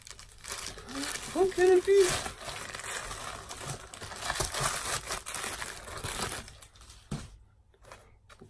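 Crinkling and rustling packaging as a box and bag are unpacked, steady close crackle running under a person talking, fading toward the end.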